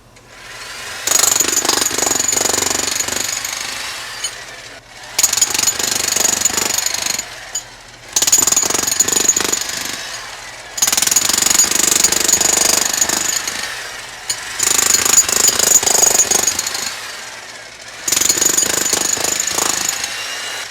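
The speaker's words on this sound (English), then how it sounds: "that is a very cool jackhammer" A VEVOR 3500W electric jackhammer pounding concrete patio stones in six loud, rapid-hammering bursts of a few seconds each, separated by short pauses, close and continuous during each run with no voices.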